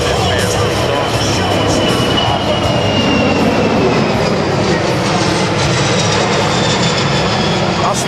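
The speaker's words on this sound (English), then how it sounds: "from the right, the C-17 Globemaster high-speed pass" A C-17 Globemaster III military transport jet roars past in a loud, sustained high-speed pass at an outdoor air show, its broad engine rumble filling the air with a slowly shifting pitch.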